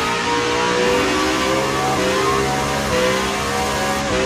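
A turbocharged car in the racing game Assetto Corsa, driven at Meihan, revs hard with a loud, continuous engine drone and layered harmonics that climb and dip as it shifts, with no voices over it.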